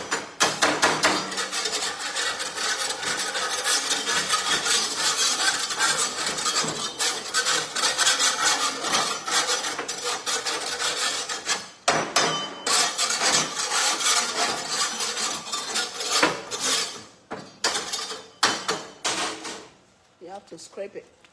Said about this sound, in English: I have to scrape it before I put the rest.